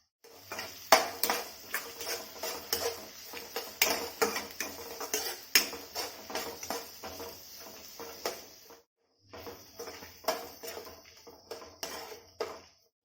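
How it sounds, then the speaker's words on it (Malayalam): Onions being sautéed with salt in a pan for a taro root curry, heard as repeated clinks and scrapes of a utensil against the pan over a low background, with a brief pause near the end. "ഇനി നമുക്ക് ഈ സവാള നല്ലതുപോലെ ഒന്ന് വഴക്കിയെടുക്കാം കുറച്ച് ഉപ്പ് കൂടി ചേർത്ത് നല്ലപോലെ ഒന്ന് വഴറ്റിയെടുക്കാം"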